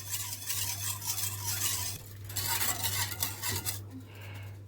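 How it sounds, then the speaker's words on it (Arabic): Rennet being stirred into milk in a pot for homemade halloumi cheese, a spoon scraping and swishing in steady strokes with a low hum behind, close and fairly quiet. "ونبتدي نضربها كده في اللبن، نوزعها في اللبن كويس جدا"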